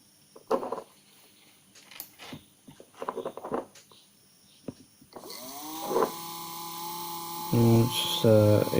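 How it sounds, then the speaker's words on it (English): A small electric motor hooked up to a power source switches on partway through and runs with a steady mains hum and whine, following a stretch of quiet clicks and handling noises, with a few louder bursts near the end. "The motor is currently running"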